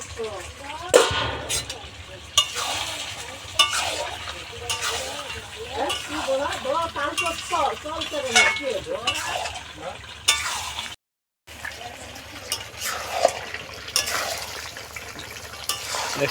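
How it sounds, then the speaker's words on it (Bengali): Hatchery chicken meat cooked with green chillies and fried potatoes, sizzling in oil in a pan while a spoon stirs and scrapes repeatedly; steady close frying hiss with clattering strokes, a brief gap near the end. "মাংসটা সুন্দরভাবে কষানো হয়ে যাচ্ছে"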